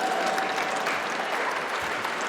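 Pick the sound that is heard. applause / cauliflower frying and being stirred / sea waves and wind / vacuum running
applause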